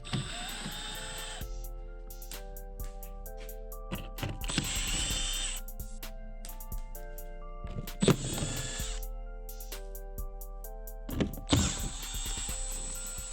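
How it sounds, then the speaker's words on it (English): A power tool backs 8mm bolts out of a BMW E9x skid plate in several whirring bursts separated by pauses, with metallic clicks and rattles between runs, close and moderately loud. "So we'll remove those 8mm bolts."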